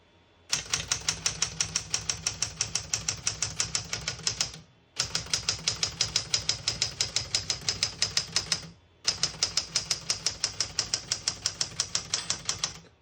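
Rapid, crisp keystrokes on a 1968 Smith-Corona Super Sterling portable typewriter come in three long even bursts of clacking separated by short pauses, close and loud with no talking.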